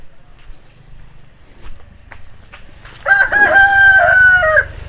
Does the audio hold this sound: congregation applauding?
no